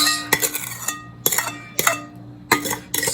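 A utensil scrapes and clinks against a bowl while bourbon-coated pecans and their liquid are pushed out, a few sharp separate strokes with short pauses between them.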